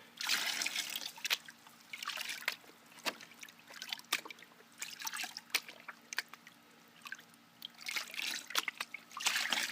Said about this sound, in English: I'm going to just kind of backwash some of this stuff.